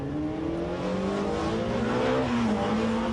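A rally car at the Rali Vinho Madeira 2011 passes with its engine loud and close, the note rising and wavering as the car drives by on the stage, with no talking.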